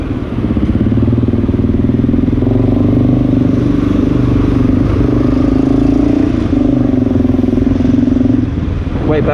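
An XR650L motorcycle runs with its exhaust silencer removed, a loud, steady, throbbing thump close by that holds a rough even idle throughout with small swells in engine speed.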